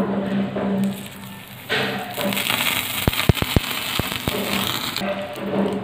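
Sharp pops and crackles burst in a quick cluster as cumin seeds, mustard seeds and curry leaves hit hot oil, sizzling over a steady background hiss, fairly close.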